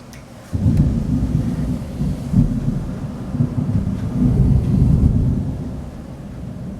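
Deep rolling thunder from a thunderstorm rumbles loudly and continuously for several seconds, swelling and fading in waves, with rain faintly audible underneath.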